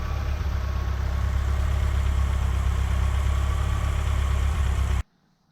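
A Datsun 1600 fitted with an SR20DET engine idles steadily and loudly with a deep, even rumble for about five seconds, then cuts off abruptly into silence.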